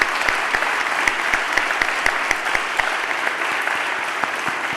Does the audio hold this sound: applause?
yes